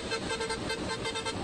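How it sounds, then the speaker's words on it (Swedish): A car horn in a played driving video sounds as a continuous honk through the whole short clip, steady and fairly loud against a dense traffic background, with no talking. "tutan låter lite löjligt"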